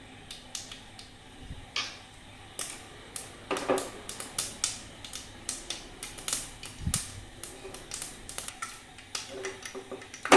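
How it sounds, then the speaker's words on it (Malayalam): A quarter teaspoon of mustard seeds splutters in hot oil, giving sharp, irregular pops and crackles that grow quicker and denser, close up and alone. "ഒരു 1/4 ടീസ്പൂൺ കടുകിട്ട് പൊട്ടിക്കുക."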